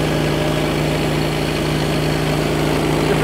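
A Primerite trash pump engine runs steadily at a constant idle-like drone, close and loud, with an even low rumble and vibration and no pauses.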